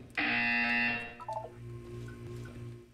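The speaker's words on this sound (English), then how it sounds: "When you hear the buzzer, look up at the ceiling." Loud electronic test-chamber buzzer from the video game Portal 2 sounds once for about a second, followed by softer tonal beeps and a low humming background.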